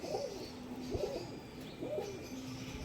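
Three soft, evenly spaced coos come from a teddy female pigeon over a faint, constant background hiss.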